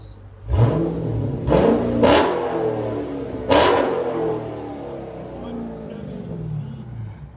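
A Chrysler 300C with a 6.4-liter HEMI V8 and its mid muffler deleted revs hard in several sharp, throaty blips, each bark settling back into a rumbling idle. The exhaust is loud and close.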